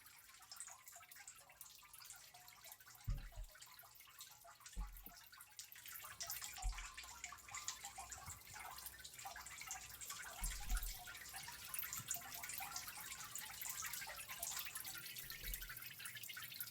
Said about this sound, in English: It's a storm drain.